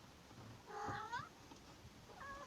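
A cat meows softly inside a camper truck on a rainy day, one drawn-out plaintive meow followed by a shorter second call, faint against a quiet room hiss.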